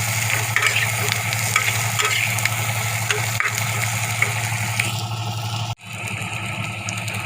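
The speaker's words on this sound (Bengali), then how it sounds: "আলুগুলো দিয়ে ভালো করে ভেজে নেবো।" Potatoes fry in oil in a pan for a mixed vegetable dish, giving a loud, dense sizzle with repeated stirring scrapes over a low steady hum, broken by one brief drop near the end.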